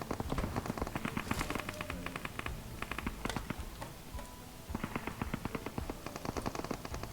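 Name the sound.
gunfire in PUBG Mobile video game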